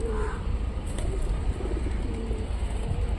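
A flock of pigeons gathered outdoors to be fed coos softly, with a constant low rumble of passing traffic underneath.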